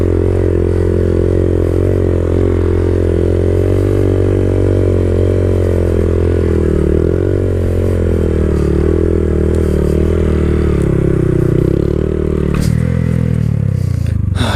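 Harley-Davidson Sportster Iron 883 engine held in first gear during a sit-down wheelie, a loud continuous rumbling drone with slight pitch shifts and a brief clatter near the end, no talk over it.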